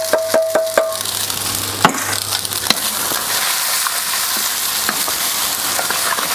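Egg fried rice frying in a pan on a Kamado Joe grill, a steady sizzle broken by several sharp metallic scrapes and taps of a utensil along the pan bottom, close and fairly loud.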